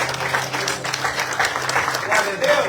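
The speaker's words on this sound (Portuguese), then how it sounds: "Vamos aplaudir Jesus?" A church congregation claps loudly and continuously at a worship service, dense applause with crowd voices mixed in throughout.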